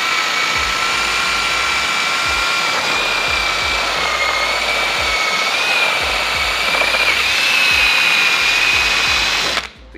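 Power buffer fitted with a 5-inch buff ball polishing a boat cleat, running as a steady, loud motor whine with a faint pitch wobble for about ten seconds before it cuts off abruptly.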